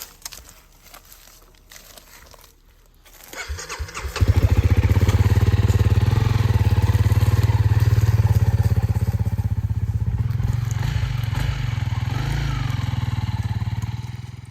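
A Suzuki Burgman scooter engine starts up and runs loudly and steadily from about four seconds on, a close, continuous drone at a campsite beside a truck camper in California, with rustling and clatter before it.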